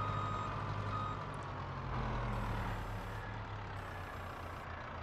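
A converted vehicle mod in Farming Simulator 22 plays its engine and hydraulic sound, a steady low mechanical drone with a repeating high beep running through it, constant and alone.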